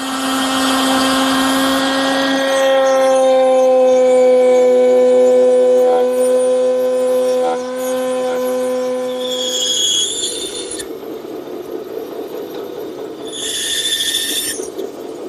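A bandsaw cuts decorative cutouts in wood for the corners of a jewelry box. It gives a loud, steady, whining drone for about ten seconds, then a rougher, quieter noise broken by bursts of high hiss.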